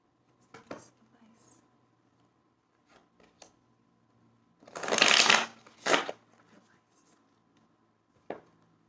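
Tarot cards being shuffled and handled, soft scattered taps and rustles building to two dense bursts of riffling, then a final flick, close and fairly quiet.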